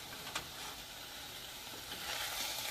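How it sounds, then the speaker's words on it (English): Spinach stirred in a pan over medium heat sizzles softly and steadily, with faint scraping from the stirring and a slight swell near the end. "It's on medium heat now, but you can hear it kind of sizzling"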